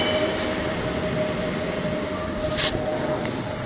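Departing train rumbling steadily and close, with a faint tonal hum and a brief sharp wheel squeal near the end.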